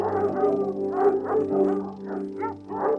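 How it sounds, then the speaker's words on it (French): A pack of foxhound and Poitevin cross hunting hounds bays and barks in repeated overlapping bursts, moderately loud over a steady sustained tone, in a French Loire hunting tradition. "se perpétue la tradition de la vénerie avec une célèbre meute de 90 chiens, croisement de foxhound anglais et poitevin français"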